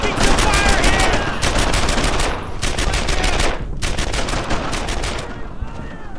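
Video game combat in Brothers in Arms: Earned in Blood, with sustained bursts of rapid automatic gunfire, loud and dense, broken by brief gaps and overlapping shots from several weapons.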